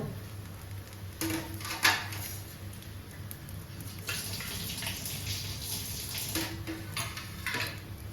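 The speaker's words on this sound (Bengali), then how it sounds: "আমার প্লেট ধোয়া হয়ে গেল।" A tap runs while a plate is washed beneath it, giving a faint, steady splash of water broken by light clinks and a few louder bursts. There is no talking.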